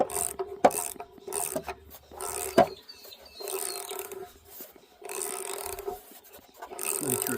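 A socket wrench ratchets in short bursts while tightening an anode into a hot water service tank, close and fairly quiet, with rasping clicks and pauses between strokes.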